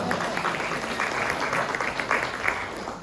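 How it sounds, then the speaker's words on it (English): A crowd applauds hosts at an annual association meeting, producing a steady, full round of clapping that stays even across the whole stretch, with faint murmuring mixed in. "Let's give them a round of applause."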